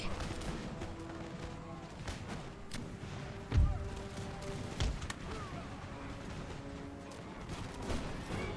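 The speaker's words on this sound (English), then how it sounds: "the rifles are actually shooting a lot of our own there in the back" Rifle gunfire crackles through a large American Revolution video game battle, with a dense, distant wash of musket volleys and one sharper, nearer thump standing out amid the continuous din.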